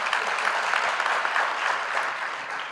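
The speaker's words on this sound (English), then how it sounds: "let's applaud him and the SRC for that." Steady applause from a university graduation audience, a dense even wash of many hands clapping that holds throughout with no talk over it.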